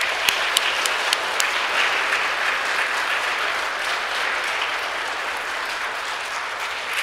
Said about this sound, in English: Please give a round of applause to our fifth graders.